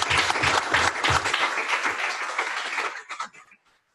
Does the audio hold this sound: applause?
yes